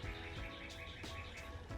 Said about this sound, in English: can y'all hear that bird?